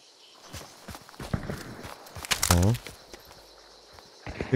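Players run in the video game Hunt: Showdown, their footsteps thudding in uneven clusters at mid distance, while a voice speaks briefly partway through.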